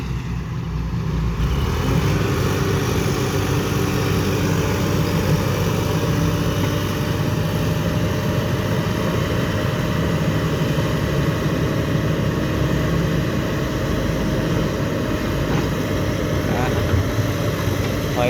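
A heavy diesel tractor engine idles and rumbles steadily throughout, loud and close at a earthworks site, with a voice speaking over it now and then.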